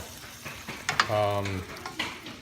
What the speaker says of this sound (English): let's give this a good mix